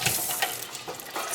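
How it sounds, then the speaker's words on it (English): Water runs briefly from a tap over Berkey filter elements during cleaning, a soft, splashy hiss with uneven bursts, fairly faint and with no voices. "all I'm going to do here is run a little bit of water"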